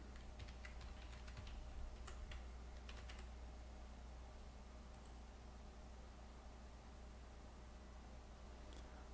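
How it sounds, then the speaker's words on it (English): Keys clatter on a computer keyboard while login credentials are typed in on a Windows 10 PC, a quick run of clicks at first, then sparser taps over a steady low hum. "you have to type your credentials"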